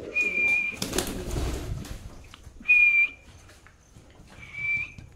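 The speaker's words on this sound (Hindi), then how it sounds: "एक एक एक करके सारे कबूतर उड़ जाएंगे।" Pigeons take off from a loft one after another, with a burst of wing flapping near the start amid repeated thin, steady whistling tones and quiet background between them.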